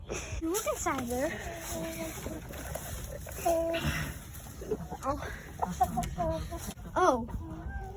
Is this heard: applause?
no